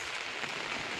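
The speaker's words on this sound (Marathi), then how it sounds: "बघा पावसाचा सरी कशा चालल्या बघा" A rain shower falls steadily at Malshej Ghat, a brief, even hiss of drops striking the surfaces all around.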